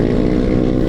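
A loud open-pipe exhaust roars close by as a vehicle passes on a hill road, a deep engine drone held through a brief burst.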